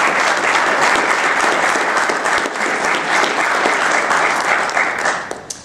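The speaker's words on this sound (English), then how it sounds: "I didn't know I was going to get an applause line in my speech" Loud, dense audience applause at a political conference lecture, a sustained wash of many hands clapping close and continuous, fading slightly at the very end.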